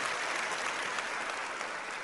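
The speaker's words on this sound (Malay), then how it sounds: "tepuk tangan yang meriah tadi" Lively audience applause during an Islamic sermon, a dense, continuous wash of many hands clapping at even loudness throughout.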